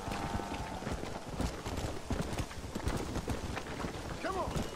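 Galloping horse hooves in the video game Red Dead Redemption, a busy rhythmic clatter of hoofbeats throughout, with a voice talking over them.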